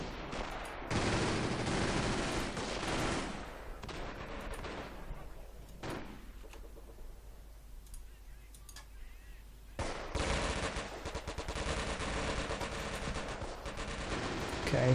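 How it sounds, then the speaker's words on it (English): Machine gun emplacement fire in the video game Company of Heroes, with repeated rattling bursts of gunfire that break off into a quieter stretch and then resume, loud and dense, with no talking. "Okay, this MG emplacement,"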